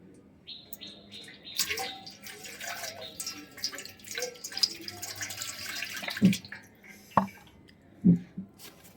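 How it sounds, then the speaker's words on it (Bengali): Water is splashed onto a face during washing to remove makeup, with close wet splashes, drips and a few louder slaps toward the end. "জলটা এবার দিচ্ছি, দেখো।"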